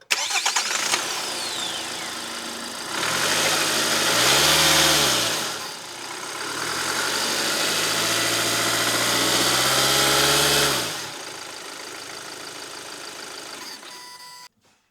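A Kia Sonet's 1.5-litre four-cylinder turbo diesel engine cranks and fires, then runs with a loud, steady mid-frequency drone. The tone swells and dips once before settling and cutting off near the end, with no voices.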